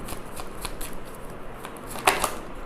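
Tarot cards are shuffled and handled close up in a soft, steady riffling rustle, with one sharper flick of a card near the end.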